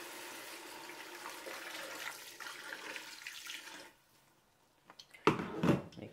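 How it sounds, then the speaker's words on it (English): Water is poured into a cooking pot over meat with apple cider vinegar and a stock cube, a steady rushing flow that stops and then gives way to a few splashy bursts at the end. "And then I'll add some water."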